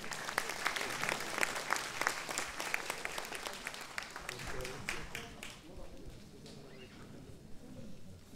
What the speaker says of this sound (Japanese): 大きな拍手でお迎えします。